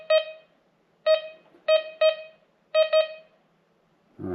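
A GreenRex metal detector in AM all-metal mode gives a run of sharp, close electronic beeps, some single and some in quick pairs, separated by short silences.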